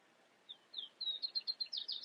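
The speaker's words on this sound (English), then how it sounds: "We've got birds chirping." Birds chirp in a quick series of high, bright tweets that grow denser and louder over about two seconds, heard faintly and with no talk inside a large auto show hall.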